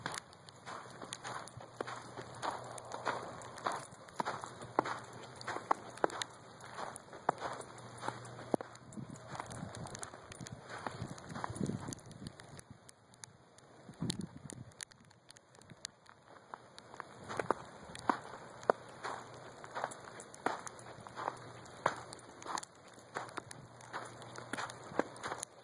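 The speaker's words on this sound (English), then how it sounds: "That noise you hear is the snow crunching beneath my feet." Footsteps crunch through chunky snow and hail in a Phoenix, Arizona yard, a faint irregular series of close crisp crunches that continues steadily for the whole stretch.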